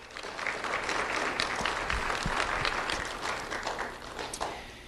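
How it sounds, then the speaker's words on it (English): Warm round of applause at a student awards ceremony, dense crowd clapping sustained for several seconds and tapering slightly at the end. "let's thank Lee County Electric Cooperative and Alliance Financial Group with a warm round of applause."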